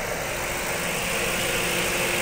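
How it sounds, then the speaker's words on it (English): A 2009 Ford Crown Victoria Police Interceptor P71 idling with the air conditioning running, a steady, even engine hum with a constant fan-like hiss and no change in revs. "It's been running for over half an hour, idling with the AC on."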